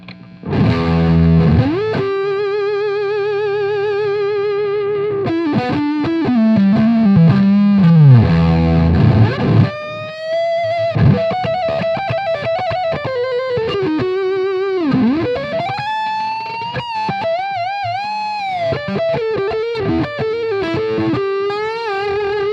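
Electric guitar played through a distorted amp, with sustained bends and quick melodic runs, thick and loud with a fuzzy, gritty tone throughout.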